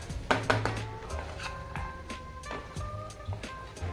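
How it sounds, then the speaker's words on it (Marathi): Vegetables with masala and peanuts being stirred in a pan for bhogichi bhaji, a spoon scraping and clinking against metal in irregular strokes, close and fairly quiet, with brief sizzling. "आणि हे मस्त सर्व भाज्या अशा त्या मसाल्याबरोबर मिक्स करून घेऊया"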